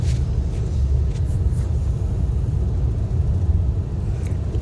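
A car drives along a snowy road between Yakima and Wapato in the season's first heavy snow, heard from inside as a steady low road rumble and engine drone with a few faint clicks.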